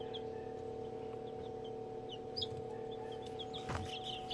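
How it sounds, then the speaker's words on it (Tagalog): Day-old chicks give soft, scattered high peeps, faint against a steady low hum, with a few brief louder chirps near the end. "Ito mga tropa yung day old chicks ko."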